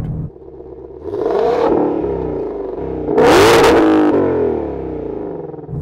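A Ford Mustang Shelby GT500 revs through its exhaust, first a muted rising rev in quiet mode, then a louder, harsher blast after switching to track mode, close and powerful.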